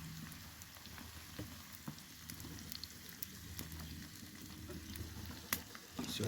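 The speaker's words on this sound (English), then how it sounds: "I'm just going to add the liver to the whole mixture and stir that through" Ox liver frying with onions in a pan outdoors while being stirred, a quiet steady sizzle broken by occasional scraping and clinking of the utensil against the pan.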